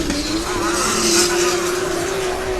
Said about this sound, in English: Pavel Hudacek on the right hand side in his VQ twin turbo powered 350Z